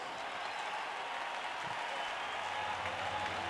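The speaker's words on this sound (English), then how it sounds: "we're the ones getting a round of applause because we're the only ones racing at this moment." Simulated crowd applause in the racing game F1 Manager 22 at the Circuit of the Americas forms a steady, even wash of distant clapping throughout, with a faint low hum underneath.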